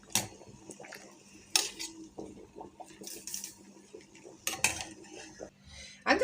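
Metal pot and utensils clank and scrape on a stovetop while spaghetti goes into salted water, with sharp irregular knocks standing out over quieter stirring and handling.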